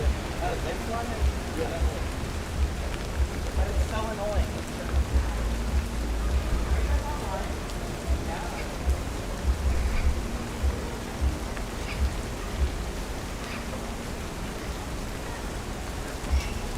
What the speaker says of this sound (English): I don't think much shopping is going to get done today for Mother's Day if it keeps raining like this.